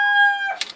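Andalusian hen, seven years old, giving a short tonal call followed by a quick burst of clucking, close and fairly loud, with no voices.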